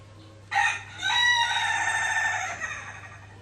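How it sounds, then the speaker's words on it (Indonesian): An outdoor rooster crows once in front of a house, loud and close: a short opening note, then a long drawn-out call over a faint steady hum. "ada ayam di depan"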